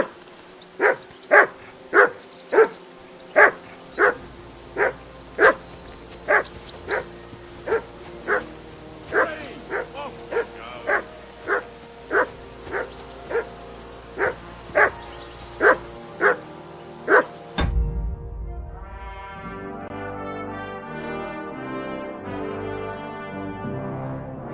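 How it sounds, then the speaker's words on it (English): A dog barks in the medieval role-playing game Kingdom Come Deliverance 2, with about twenty loud, evenly spaced barks in a steady rhythm. It then gives way to music at the end. "Henry, call that dog to heel."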